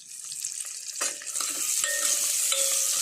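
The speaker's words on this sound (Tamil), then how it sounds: "சோம்பெல்லாம் தாளித்து சின்ன வெங்காயம், கருவேப்பிலையை நல்லா இப்படி வதக்கிக்கோங்க" Shallots and curry leaves with fennel, cinnamon and cloves sautéing in a pan for a butter bean masala gravy, a close, continuous sizzle with stirring scrapes that grows louder and denser partway through.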